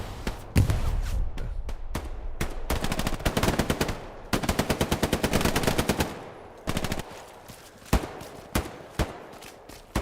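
Machine gun fire in a World War II video game, with rapid bursts of close automatic shots in long strings and short clusters, separated by brief gaps, and no talking.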